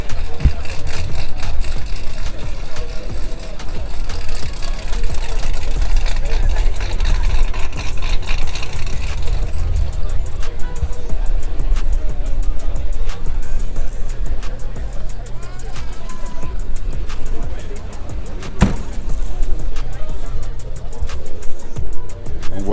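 Idling and revving car engines rumble loudly throughout a busy Los Angeles car meet of supercars and classics, a low steady drone with occasional sharper bursts, while people talk over it.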